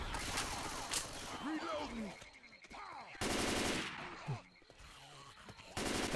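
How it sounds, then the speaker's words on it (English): Rapid bursts of Left 4 Dead 2 gunfire, machine-gun style, in several loud volleys with pauses, while co-op players talk over the shooting. "Hey, who's shooting at me?"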